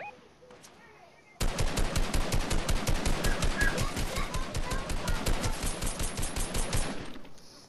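Rapid automatic gunfire from a Fortnite squads match bursts in after a quiet start, a steady stream of loud, evenly spaced shots lasting about five seconds before cutting off.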